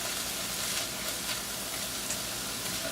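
Green pepper sizzles in a hot pan while it is stirred, giving a steady, close frying hiss that stays even throughout with no talking.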